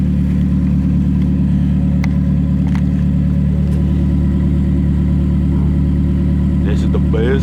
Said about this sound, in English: That's a beautiful cold start.